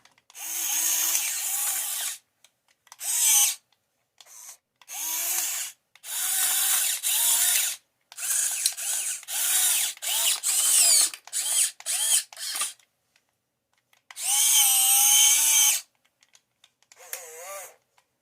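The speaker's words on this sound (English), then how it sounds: "The big Huina 580 motor is definitely getting the job done on a little 1550." A Huina 580 motor in a small Huina 1550 RC excavator works while digging and moving rocks, giving repeated loud, high-pitched whining bursts of a second or two each, separated by short gaps.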